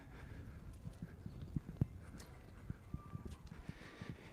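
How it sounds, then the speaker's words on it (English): Horse hooves clip-clop in an uneven walking rhythm at moderate distance in a riding arena in Sviyazhsk, Tatarstan, with sharper individual hoof strikes standing out over a low background hum. "here is the horse riding in the manege"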